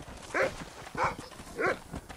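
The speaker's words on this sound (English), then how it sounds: "A normal dog?" In the Red Dead Redemption video game, a dog gives three evenly spaced barks, each a short, clear woof at moderate distance, with low game ambience in the background.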